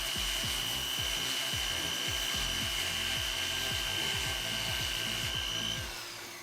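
Steady abrasive grinding with a rhythmic rubbing pulse and a high whine, a sanding wheel working a metal ring continuously before trailing off at the end.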